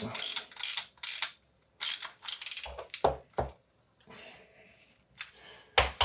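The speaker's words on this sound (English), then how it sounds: "Grab our ratchet. Bring it all the way down." Socket ratchet clicking in quick bursts while tightening a bolt during a Rockshox Recon RL suspension fork service, sharp close pawl ticks in several short runs separated by pauses, with no talk.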